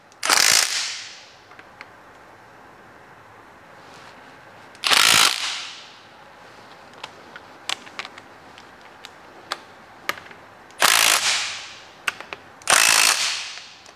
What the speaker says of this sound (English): I'm going to tighten up the bolts and check it again